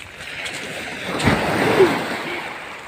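Sea waves wash onto a beach shoreline on a rainy day, a soft, steady surf rush that swells once toward the middle, with no talking.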